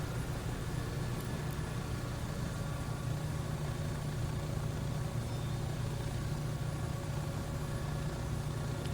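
A Bell 407 helicopter engine idles just after start-up in the X-Plane 12 flight simulator, giving a steady, continuous low drone with a constant hum and no breaks.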